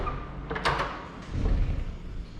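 A resort door opens and closes with a brief latch click and a soft thud, heard up close in a short, quiet moment at Twin Falls Resort State Park.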